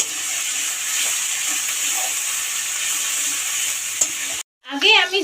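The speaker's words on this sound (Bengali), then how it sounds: "এরপর দিয়ে দেব টমেটো আর কাঁচা লঙ্কা। দিয়ে ভালো করে এটাকে কষিয়ে নেব।" Tomato and green chili are fried and stirred in a pan of hot oil, making a steady, close hissing sizzle. It cuts out briefly, then returns with scraping stirring strokes.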